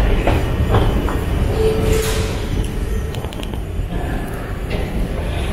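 An Edmonton Valley Line light rail train rumbles steadily and fairly loudly, with faint metallic clicks and brief high squeaks scattered through it. No voices are present.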